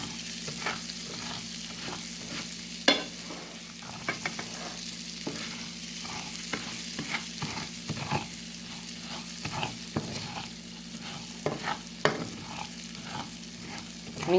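Rice-A-Roni sautéing in pork juices, butter and seasoning on a stove, a steady sizzle broken by repeated scraping stirs of the spoon across the pan, close and continuous with no talk.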